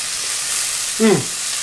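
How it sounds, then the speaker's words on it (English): Steady hiss of mushrooms sizzling in a frying pan, with a brief voice sound partway through. "So I'm frying the mushrooms now before I add it to the sauce."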